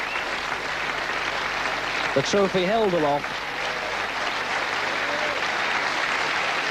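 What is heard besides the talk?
audience applause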